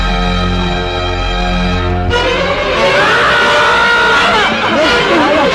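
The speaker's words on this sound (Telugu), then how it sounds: "నాగరాజు సార్, ఎందుకైనా మంచిదా శవం మీద నుంచి లారీని పోనీ" A lorry drives over a body in a movie scene. A deep, steady engine drone runs loud, then gives way to a harsher rumble and scraping vehicle noise with dramatic sound layered over it.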